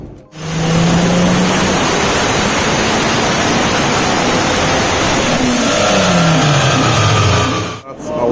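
A turbocharged 9th-gen Honda Civic Si runs on E85 at 11 psi of boost on a dyno, its engine roaring loud and close as it climbs through a full pull, the pitch sweeping upward, before cutting off abruptly.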